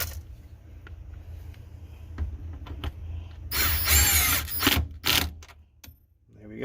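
A pneumatic impact gun rattles in a loud burst of about a second and a half, then a shorter hit, tightening a shift linkage bolt on a 1992–95 Honda Civic. Faint clinks of tools come before and after it, with no talking.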